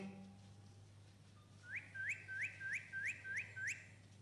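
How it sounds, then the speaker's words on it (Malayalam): A person whistles a string of about seven short rising notes in an even rhythm. The notes are faint and sit over quiet background hum, and no one talks. "ചൂളം വിളിച്ചതോ?"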